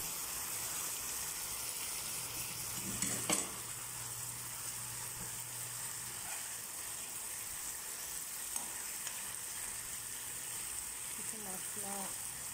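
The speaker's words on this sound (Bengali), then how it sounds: "এটার ভিতরে আমি এখন মাছটা অ্যাড করে দিব" Fish goes into a pan of already cooking spices, and steady frying sizzle fills the clip with a few soft splashes and clinks along the way.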